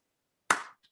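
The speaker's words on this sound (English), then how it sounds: "Could we all unmute and give Ashna a huge, huge round of loving applause?" Brief burst of hand clapping, a single short round of applause for a poet that starts abruptly and fades within a fraction of a second, close and fairly loud against an otherwise silent background.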